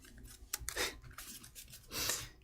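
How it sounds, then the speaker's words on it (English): A Lord of the Rings trading card deck is shuffled, giving close riffling and sliding rasps in two or three soft bursts with no talking. "Okay, so then we shuffle and we draw 8."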